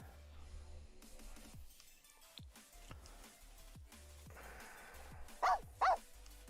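A dog in The Sims 4 video game gives two short, sharp barks near the end, after quieter game ambience and soft clicks.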